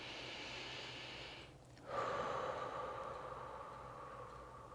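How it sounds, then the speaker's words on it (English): A deep breath close to the microphone at the end of a meditation, a quiet pause followed by a long airy inhale or exhale that slowly fades, soft and alone. "we will emerge from our meditation with a deep breath"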